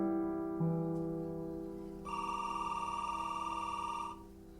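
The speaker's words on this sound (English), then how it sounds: "just a landline ringing in an empty apartment" An old landline telephone rings in an empty apartment, a steady electronic ring that grows louder partway through, with no voices and no one answering.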